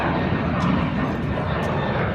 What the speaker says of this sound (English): Let me show you the airplane.